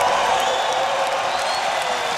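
Crowd at a Street League Skateboarding World Tour final in Newark, New Jersey cheering and applauding, a steady roar of voices and whoops filling the space, with a commentator talking over it.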